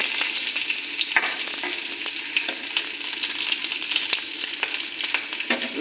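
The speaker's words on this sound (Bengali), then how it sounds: "পেঁয়াজ কুচু কুচু করে কেটে কেটে ওগুলো দিয়ে দেবো" Chopped onion frying in a pan with bay leaf and dried red chilli for masoor dal, giving a steady, close hissing sizzle with small crackles and pops throughout.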